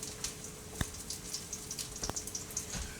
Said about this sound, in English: The water is boiling.